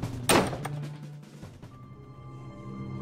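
A door slams shut with a loud, sharp thud near the start, then a short ringing decay and a quiet, tonal room hum.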